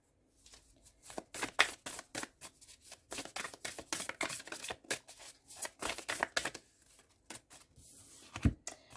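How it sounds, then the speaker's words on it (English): Tarot cards are shuffled by hand in quick, irregular bursts of crisp riffling and slapping, close and fairly quiet, with no talking. "2 cards out of all these that I've been shuffling here to come out again"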